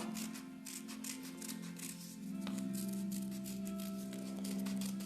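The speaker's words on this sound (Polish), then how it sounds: "I teraz bierzemy nożyczki, i wycinamy równiutko." Quiet snipping and crinkling of a paper heart for a Valentine's card being cut with scissors, steady and close, with a soft hum underneath.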